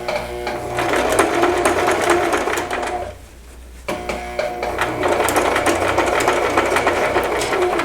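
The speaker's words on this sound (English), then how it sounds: "I already adjusted the settings on my machine to go to the zigzag stitch, and I did widen the stitch" Sewing machine running a widened zigzag stitch over elastic, a steady loud mechanical whirr that stops briefly near the middle, then resumes and continues to the end.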